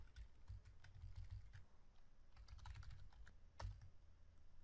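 Computer keyboard typing while editing code, with quick irregular bursts of soft clicking keystrokes and short pauses, faint and close, with no voices.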